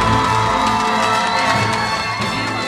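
An audience at a live concert with the Lido dance troupe applauds and cheers after the opening act, a loud, continuous wash of crowd noise and whoops.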